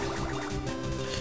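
Bubble attack in the game Pokemon FireRed, a soft, gurgling watery burble of popping bubbles at low volume, continuous through the short moment.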